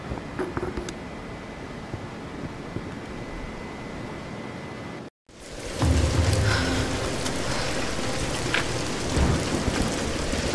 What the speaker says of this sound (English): We're getting closer to the storm.